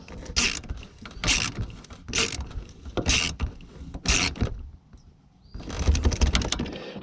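A ratchet on an extension tightens a radiator hose clamp on a 2000 Dodge Dakota 3.9-liter V6, clicking in five evenly spaced, close bursts, then a brief pause before a longer run of rapid ratcheting.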